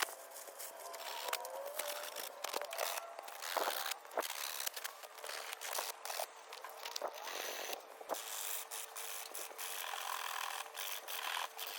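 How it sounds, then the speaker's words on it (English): Wood veneer being hand sanded by hand to remove excess after scraping, a steady run of close, scratchy rubbing strokes that keeps going without pause, with no talking. "I used my handheld profile scraper to cut off any excess veneer and hand sanded the remaining excess."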